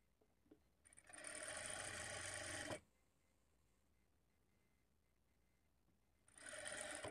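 A sewing machine stitches a lined blouse in two bursts of rapid, even whirring, one lasting about two seconds and a shorter one near the end, with quiet gaps and no talking.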